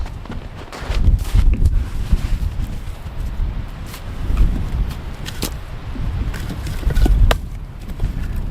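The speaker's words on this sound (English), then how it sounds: "There's a lot of wind tonight." Strong night wind buffets a hot tent in winter, gusting in loud rumbling surges with flapping and rattling of fabric close to the microphone.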